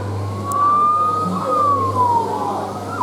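A Falgas 4S fire truck kiddie ride sounding its electronic siren, a single rising and falling wail over a steady low hum, loud and close.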